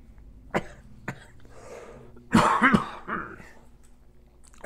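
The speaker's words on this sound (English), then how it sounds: "I still have this dry cough." A dry cough from one person, sounding as a few separate short coughing and throat-clearing bursts, close to the microphone with quiet pauses between them and no talking.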